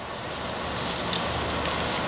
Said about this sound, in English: Nathan Nordstrom is a spray can artist in Austin.